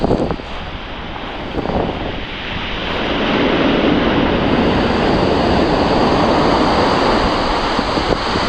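Sea waves break and wash on the shingle of Chesil Beach, a broad roar that builds and swells louder midway, with wind buffeting the microphone.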